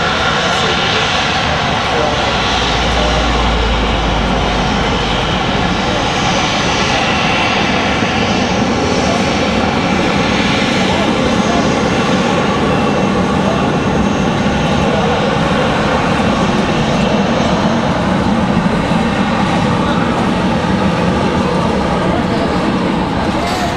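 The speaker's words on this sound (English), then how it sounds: "Got JetBlue performing a turn and burn down there at the end." A JetBlue jet airliner turns at the end of the runway at Raleigh-Durham International Airport, its engines producing a loud, continuous roar that dominates throughout.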